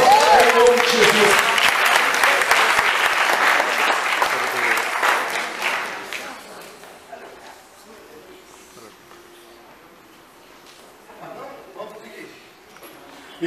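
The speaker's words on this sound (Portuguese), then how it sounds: "E os vencedores, glorifiquem-se com as suas palmas, em nome de Jesus." A church congregation applauds together, loud sustained clapping for about six seconds that fades to a quiet room with faint murmur.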